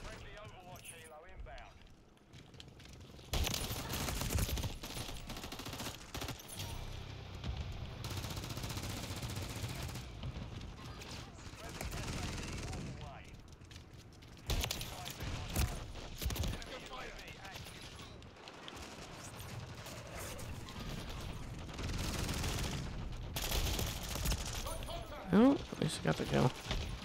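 Shotgun fire from the Call of Duty video game comes as repeated loud blasts and bursts of gunfire amid game noise, with a person talking over much of it.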